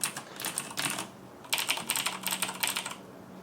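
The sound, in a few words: typing on Razer BlackWidow Tournament mechanical gaming keyboard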